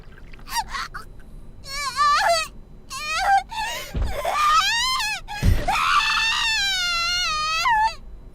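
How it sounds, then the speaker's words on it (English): Yuka screams in agony in the video game Corpse Party, a string of shrill, wavering cries and wails that rise and break repeatedly, loud and close, with sharp thuds between them. "waves of unbearable agony trigger unconscious screams of primal, nearly animalistic torment"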